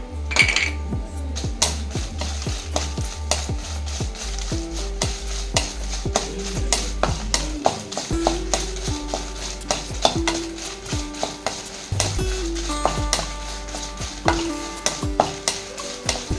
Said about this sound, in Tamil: இப்போ நான் இப்போ வரமிளகா போட்டுக்கிறேங்க ஒரு பத்து பாஞ்சு மிளகா போட்டிருக்கேன்